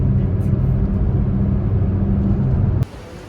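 Manual car driving on a road, a steady low rumble of engine and tyres from inside the cabin that drops abruptly near the end.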